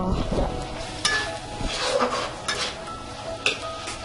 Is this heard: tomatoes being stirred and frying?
yes